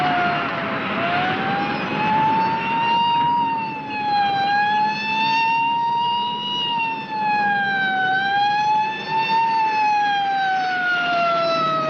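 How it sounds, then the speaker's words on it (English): A police car siren wails steadily behind a moving car, its slow rising and falling tone loud and close, with rich harmonics running continuously for the full twelve seconds and no talking over it. "There's a police car right in back of us."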